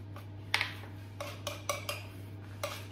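A knife trims around the edge of a gluten free minced beef pie pastry, giving a series of light, irregular taps and scrapes against the dish, close and quiet with no talking.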